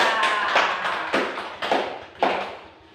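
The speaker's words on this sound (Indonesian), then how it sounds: "tepuk tangan yang meriah untuk Asok." Pupils in a classroom give a short round of applause for a classmate, the clapping loud and near at first, then thinning into a few louder claps before fading out.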